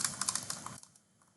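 Quick, close typing on a computer keyboard, a rapid run of key clicks for under a second, then a few softer, sparse taps as it tails off, with no voices.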